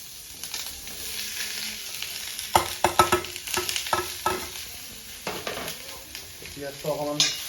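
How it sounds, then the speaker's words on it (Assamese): Onion frying in a pan while being stirred, with steady sizzling and repeated scraping clatters of the spoon against the pan. "পিঁয়াজটো অকণমান ভাজি লোৱাৰ পাছত গাহৰিটো ধুনীয়াকৈ এড কৰি"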